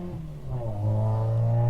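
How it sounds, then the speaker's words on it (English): A car with a weak, poor-sounding engine accelerates past nearby, a low droning rev that climbs in pitch and swells slightly louder over under two seconds. "Someone with a very poor engine just went past."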